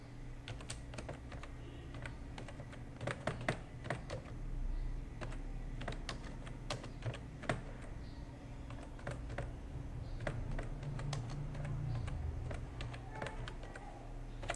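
Typing on a computer keyboard to enter text in Photoshop, a close, brisk run of irregular key clicks with short pauses between bursts, over a low steady room hum and no speech.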